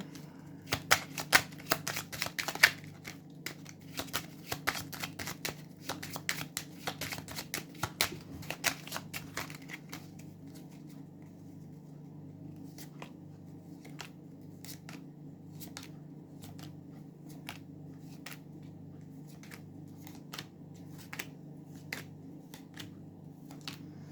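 A rapid series of sharp, distant cracks and pops in the first ten seconds, then scattered isolated bangs over a low steady rumble: air defence firing at missiles near Zaporizhzhia.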